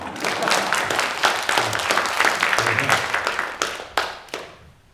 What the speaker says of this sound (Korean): 박수 한번 안 주시죠.